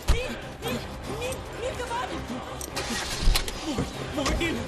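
A jeep engine cranks and catches, then runs at a rough idle, close by amid urgent shouting voices and knocks.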